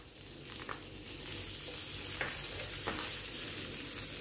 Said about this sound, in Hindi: अब मैं इसी ऑयल में शामिल करूंगी 1 मीडियम साइज का प्याज जो मैंने बारीक बारीक चॉप कर लिया।